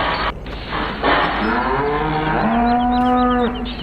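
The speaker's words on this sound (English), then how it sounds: "Wow, noisy cattle." Beef cattle mooing inside a barn in the video game Farming Simulator 2015, with long, loud, drawn-out bellows overlapping one another close by and no talk.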